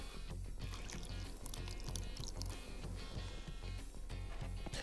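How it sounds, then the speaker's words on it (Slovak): Water poured over a banana makes a steady, continuous splashing and gurgling that stays even in level from start to finish. "Teraz banán zalejeme vodou."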